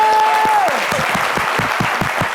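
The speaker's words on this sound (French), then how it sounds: "On peut l'applaudir encore." A school class council audience applauds a student admitted to the next grade, dense steady clapping throughout, loud and near, while a fading tone or whistle slides down at the start.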